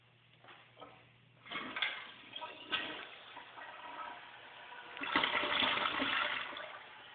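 A Kohler Wellworth toilet with a broken flapper flushes in bursts, rushing water surging and falling back several times, close by in a small bathroom.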